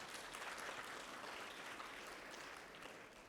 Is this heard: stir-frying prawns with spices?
no